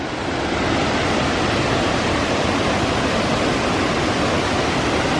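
Triple Falls in North Carolina pours out a steady, dense roar of falling water, loud and unbroken from start to finish with no voices.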